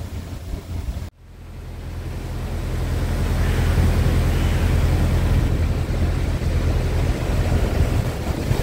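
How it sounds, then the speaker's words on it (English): Strong gusty wind on a stormy morning in Marple roars across the microphone in a dense, continuous rush that builds after a brief dip near the start and stays loud throughout. "I think the wind's picked up a bit. Seems to have gone a bit stronger."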